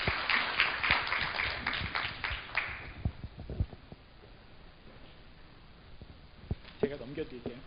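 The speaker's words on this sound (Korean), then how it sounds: "박수로 모시겠습니다" Audience applause at a Korean seminar on ransomware-safe file management and password security, welcoming a speaker. A dense burst of clapping for about three seconds thins into scattered claps, then a voice begins.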